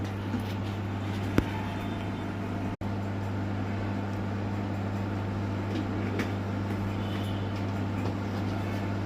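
A microwave oven heating a papad hums steadily and close up, with a low constant drone throughout, one sharp click partway and a brief dropout near the start.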